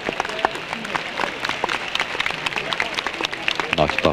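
A large outdoor crowd outside the Hungarian Parliament in 1989 applauds Mátyás Szűrös as he appears on the balcony, dense sustained clapping with scattered louder claps and some crowd noise.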